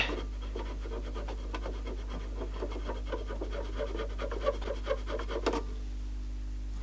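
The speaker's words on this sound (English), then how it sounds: "Give the heads a quick clean, they're a bit dirty." Soft, rapid scratching and rubbing close by, like a swab scrubbing the dirty tape heads of an Akai boombox, running for several seconds over a low hum before stopping.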